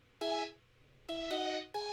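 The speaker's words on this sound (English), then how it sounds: "I wanted something that sounded like a ringtone." A ringtone-like synth tone from an Ableton Wavetable preset with EQ, used in a hyperpop track, plays bright harmonic notes in short repeated bursts with gaps between them, clear and alone.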